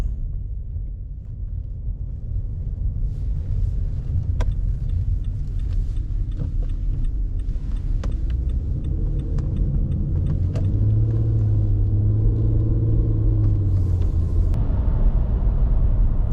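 A 2017 Nissan Altima on the road with the brakes repeatedly applied, giving a steady low rumble of engine and road noise throughout, with faint ticking and rattles above it.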